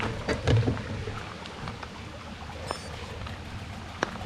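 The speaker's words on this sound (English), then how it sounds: "Another beautiful stream, though." A stream flows outdoors with a constant, soft broadband wash of running water, a few louder splashy knocks near the start and an occasional faint click.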